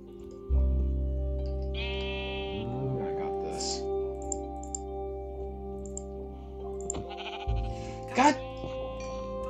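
Sheep bleat in Minecraft: a few wavering bleats rise over steady tonal game sounds, along with light clicks and ticks.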